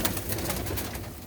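Pigeons coo continuously and close up in a breeder's loft of golden and Faisalabadi fancy pigeons, soft repeated coos layered over a busy background.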